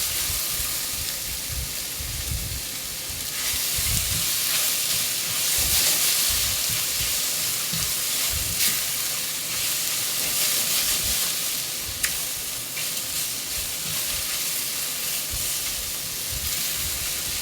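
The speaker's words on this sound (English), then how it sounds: "just let it cook in all the little bit of fat that's in there" Ground meat for a ragu sautés in its own rendered fat in a pan, making a continuous close sizzle with occasional scraping stirs and soft clatters throughout.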